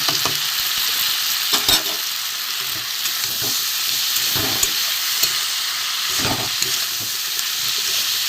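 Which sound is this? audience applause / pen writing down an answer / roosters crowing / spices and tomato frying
spices and tomato frying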